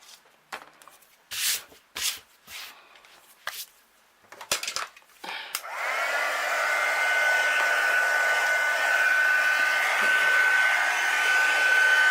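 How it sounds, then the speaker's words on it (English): A few seconds of paper rustling and handling give way to an electric embossing heat tool switching on and blowing steadily as it sets embossing powder on a handmade card. The even, loud whir continues to the end without talk. "we're going to heat set it"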